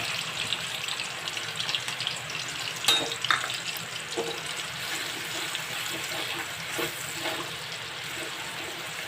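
Mustard-poppy and green chili paste fries in a tempering of hot oil, a soft wet sizzle with a few sharper spatula clicks and stirs near the middle, steady and fairly quiet, with no one speaking.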